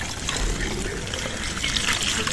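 Water is poured into a small container for ducks, giving a short, close, steady trickling and splashing of liquid over a noisy background.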